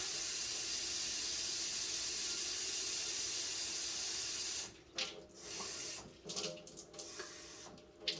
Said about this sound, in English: let's go ahead and add one more thing of water.